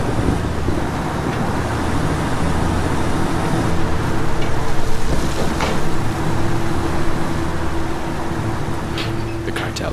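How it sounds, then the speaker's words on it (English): A truck in Ghost Recon Wildlands drives along with a steady, loud engine rumble and road roar that holds unbroken for ten seconds, with faint clanks near the end. "Now Nomad and Holt are going to use the truck to get into the camp without being detected"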